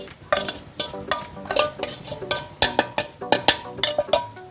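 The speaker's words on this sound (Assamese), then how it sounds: "ভালদৰে মিহলাই থাকিম আৰু অলপ সময় এনেকৈ লৰাই মই মিহলাই থাকিম।" Besan peda mixture with crushed cardamom is stirred in a pan, with repeated scraping strokes of the spoon against the metal in a steady rhythm, close and clear.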